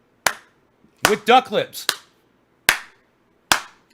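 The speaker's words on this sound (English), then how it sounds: "Slow clap for Susan!" Slow clap, four sharp claps spaced well apart, loud and close, with a short spoken phrase between the first and second claps.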